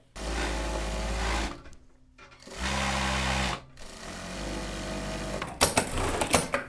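Sewing machine stitching the outer center back seam of a Chanel-style jacket, running in two loud steady bursts with a brief pause between them, followed by a few short clicking stitches, close with no talking.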